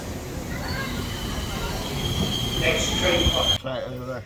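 An airport train approaches with a rising rumble and high wheel squeal, then the noise cuts off abruptly and a voice is heard briefly.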